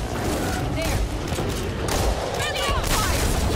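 Rapid gunfire in the zombie shooter Back 4 Blood as players fire on Breaker enemies, a dense continuous barrage with booms and thuds under loud game effects, with voices talking over it.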